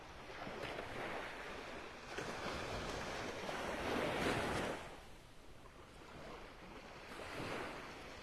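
Ocean waves wash onto the beach at North Naples, Florida, in the early morning, a broad soft rush that swells and falls, heard from nearby with some wind buffeting the microphone.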